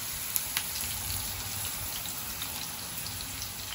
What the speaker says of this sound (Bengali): তেল গরম হয়ে গেছে আর কোয়েল যেগুলো আমি মেরিনেট করে রাখলাম ওগুলো আমি থোড়া শেলে ফ্রাই করবো